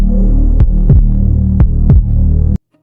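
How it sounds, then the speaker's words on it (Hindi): A loud, deep heartbeat sound effect in a Hindi horror story throbs in paired thumps over a steady low hum, beating about five times before cutting off abruptly. "चारों ओर बस अंधेरा और दिल की धड़कन की आवाज।"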